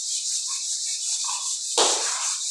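Putty being sanded by hand with sandpaper gives soft, steady rubbing strokes beneath a constant high hiss, ending in one louder scraping pass.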